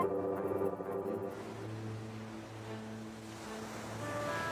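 Sea waves wash steadily around an island coastline, a soft continuous surf that swells and recedes without voices.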